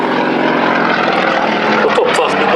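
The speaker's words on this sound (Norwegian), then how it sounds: "Det jo en 7-cylindret stjernemotor som står I den." A YAK-50 aerobatic plane with a seven-cylinder radial engine roars past at an airshow, a loud, continuous rough engine and propeller drone with no break, and faint voices mixed underneath.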